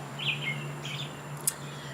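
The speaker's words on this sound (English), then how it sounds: "Loud bird over there." Loud bird calling outdoors: a few bright chirps and a short whistled call, fairly near, over a steady low hum, with no one talking.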